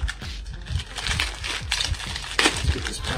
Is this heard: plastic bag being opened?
yes